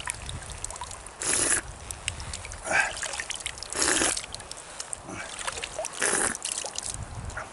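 Clear river water flowing, a steady gentle babble with several louder rushing bursts, close by and with no talking.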